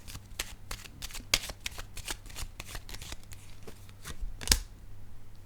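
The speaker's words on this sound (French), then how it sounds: "j'ai besoin de piger une carte sur la lettre" Tarot cards are shuffled and drawn in a rapid run of crisp riffling flicks and slaps that carry on steadily throughout. One sharper snap comes near the end, and there is no speech.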